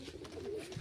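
Pigeons in a loft setup give a brief, faint, soft coo.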